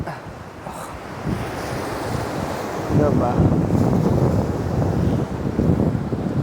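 Ocean waves washing against a Sri Lankan shore with steady wind buffeting the microphone, a continuous roar that swells louder midway.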